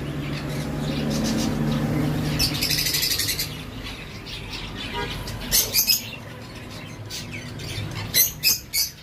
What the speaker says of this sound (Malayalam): നമ്മുടെ കൂട്ടിലേക്കുള്ള കിളി വന്നിട്ടുണ്ട് കേട്ടോ